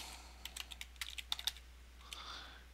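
Java code typed on a computer keyboard: soft, irregular keystroke clicks in quick bursts, close and fairly quiet, with no talking.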